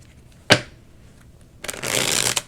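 Decks of tarot cards shuffled up close: a single sharp riffle snap, a pause, then a longer dense flurry of card flutter ending with a brief tap, no voices.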